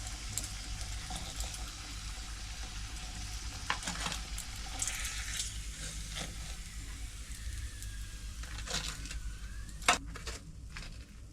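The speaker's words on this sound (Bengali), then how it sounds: "বেগুনগুলো ভাজা হয়ে গেছে এবারে তুলে নিই" Eggplant slices fry in hot oil with a constant, close sizzle, broken by occasional clinks and scrapes of a utensil as the pieces are stirred and lifted out.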